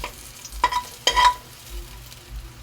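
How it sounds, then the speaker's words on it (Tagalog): Garlic sautés in a hot pan, a low steady sizzle broken by a couple of sharp scraping stirs near the start, with no talking. "Gisa tayo ng bawang guys ha."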